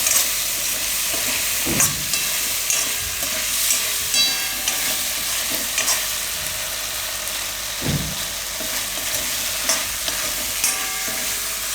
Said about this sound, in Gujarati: હું આ ખાંડ લીધી થોડીક વાર ફેરવી લેવાનું ખાંડ ઓગળી જાય ત્યાં સુધી